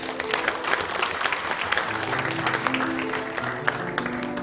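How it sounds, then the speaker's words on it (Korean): Audience applause at a Korean horse industry association officers' inauguration ceremony, steady clapping from a crowd sustained throughout with a faint voice underneath. "회장 김철호 여러분 뜨거운 박수 부탁드리겠습니다."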